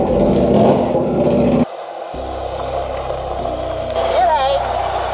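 An Indian Scout motorcycle engine drones loudly on the road, with a steady rumble and wind noise that dips briefly then builds again, and a voice heard faintly under the ride.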